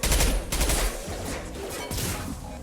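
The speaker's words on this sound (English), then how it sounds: "So the incendiary ammo is insane and it's awesome" Incendiary-ammo gunfire in the Mass Effect 2 video game: a loud, fast burst of shots up front, then quieter rattling follow-up fire and crackles over about three seconds.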